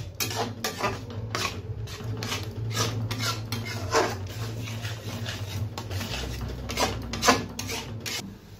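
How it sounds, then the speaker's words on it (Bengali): A spoon scraping and stirring chhena with powdered milk in a pan while making sandesh dough, rhythmic close rubbing strokes against metal with a low background hum. "আর ভালোভাবে নাড়তে হবে যতক্ষণ একটা ডো তৈরি না হয়।"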